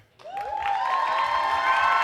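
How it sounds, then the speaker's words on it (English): An audience at a beauty pageant breaks into sustained applause and cheering for a contestant, rising quickly and holding steady and loud, with a tonal musical sting underneath. "I wanna hear a big applause to Sha-Abria"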